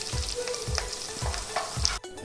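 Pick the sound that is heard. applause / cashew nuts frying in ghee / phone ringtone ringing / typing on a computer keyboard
cashew nuts frying in ghee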